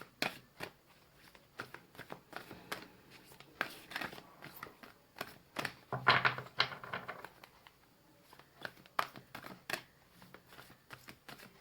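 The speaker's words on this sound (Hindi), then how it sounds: "चलिए अब एनर्जी ऑरेकल कार्ड से कुछ" Energy oracle cards are shuffled and drawn at a tarot reading, giving a run of soft, irregular papery flicks and riffles with a denser burst partway through, close and fairly quiet, with no talk.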